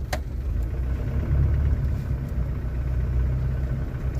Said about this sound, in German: So, wir fahren los.